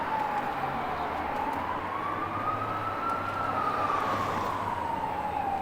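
A fire truck siren wails continuously as it approaches from behind on a Toronto street, rising and falling slowly over steady traffic rumble.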